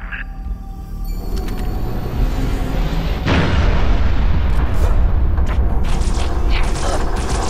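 Artillery strike from an FPF fire mission in Halo Reach, a sustained heavy rumble of explosions that swells and stays loud throughout, with dense low booms layered together.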